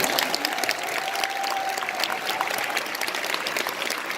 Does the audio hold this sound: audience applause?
yes